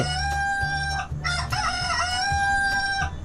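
Nearby rooster gives a loud, drawn-out crow, with clucking and other fowl sounds from the farmyard around it.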